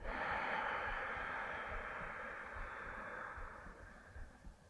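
A long, steady exhale during a yoga butterfly hip-opener stretch, close and breathy, fading gradually over about four seconds with no talking.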